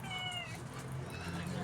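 A house cat meowing in a home: a drawn-out, fairly close meow followed by further wavering, whiny cries, with a person talking quietly underneath.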